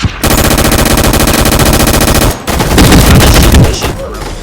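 Rapid, relentless automatic gunfire from a gun fight arena video game, a dense loud stream of shots that breaks briefly and then resumes as messier overlapping fire.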